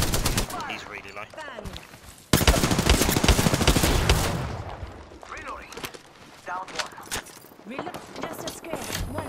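Dense rapid gunfire in a video game, bursts of shots rattling close and loud with a heavy stretch in the middle, mixed with people talking throughout.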